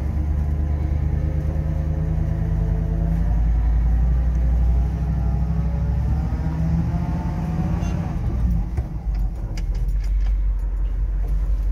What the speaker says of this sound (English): taking off into the street, you take off in second.